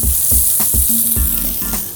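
Garlic sizzles and fries steadily in a hot pan with veal juices, cipollini onion and butter, a close, continuous crackle with a few brief stirring bursts and no talk.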